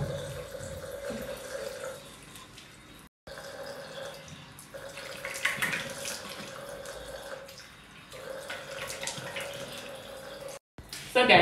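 Tap water running steadily into a sink while African black soap is washed off the face, a continuous close splashing flow with faint background voices.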